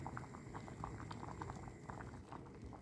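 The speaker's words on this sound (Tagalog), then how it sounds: "Hayaan lang muna natin yan na kumulong-kumulo siya." Sliced corn boiling in a pot over low heat, a steady close bubbling with soft rhythmic pops and gurgles and no one speaking.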